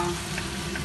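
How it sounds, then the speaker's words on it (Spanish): Cuttlefish sizzles in a casserole alongside softening onion over low heat, a short, dense burst of frying noise with a steady low hum beneath it. "Ahora tiraremos la sepia. Mientras se sigue pochando"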